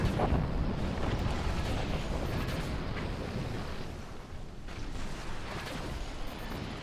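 A howitzer shell explodes in a video game, giving a deep, rumbling boom that holds a sustained roar and slowly fades, loud and close.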